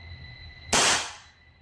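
A single sharp gas-blowback shot from a WE Hi-Capa T-Rex airsoft pistol, a loud close crack with a short fading tail over a quiet room with a faint steady hum.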